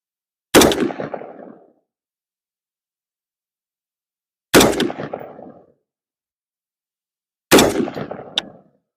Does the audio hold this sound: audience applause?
no